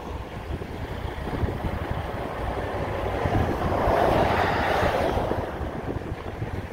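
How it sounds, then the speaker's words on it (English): Wind and surf roll in on the Pacific Ocean at the Columbia River mouth, where whitecaps break; a steady broadband roar swells louder midway with wind buffeting the microphone, and no one speaks. "there's white caps, and it is out there, it's the Pacific Ocean."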